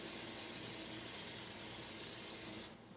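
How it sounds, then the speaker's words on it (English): Aldi non-stick butter spray hisses out of an aerosol can in one steady, close spray lasting about two and a half seconds before cutting off abruptly. "This is just a non-stick butter, Aldi's. We're going to spray"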